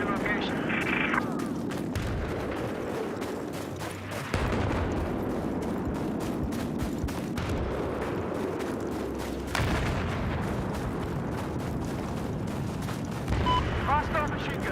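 Machine gun fire rattles through a war video game firefight, dense bursts of shots and blasts running continuously with other gunfire in the mix.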